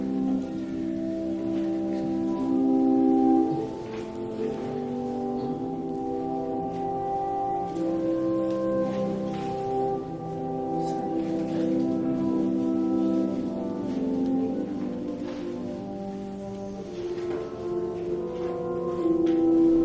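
French horns play the opening of an opera's Act 2 prelude in sustained, overlapping tones, swelling and fading across the phrase, full and resonant with no talking.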